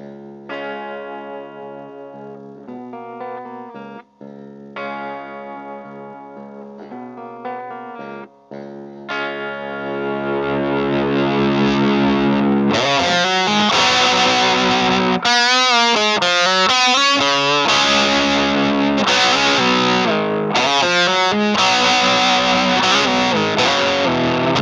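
Electric guitar plays a clean, effect-laden lead motif for about ten seconds, then kicks into a loud, heavily distorted chorus riff with chorus and reverb effects, full and sustained to the end, with no talking.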